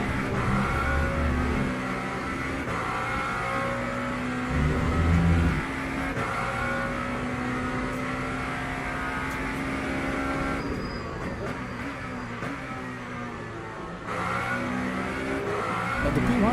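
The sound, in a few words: race cars engines, Le Mans Ultimate video game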